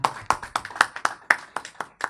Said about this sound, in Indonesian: Kita berikan tepuk tangan buat mereka berdua.